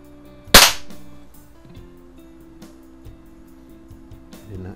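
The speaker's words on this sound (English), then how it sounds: "Sounds like it's shooting with some pretty good power." A Daisy model 1140 break-barrel spring air rifle fires a single .177 pellet: one sharp, loud snap near the start, then a faint hum and low background noise with no talking.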